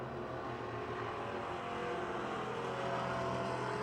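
Race cars at Pennsylvania Motor Speedway in Pittsburgh produce a steady, fairly distant engine drone that builds slightly over a few seconds as the pack runs on, with no voices.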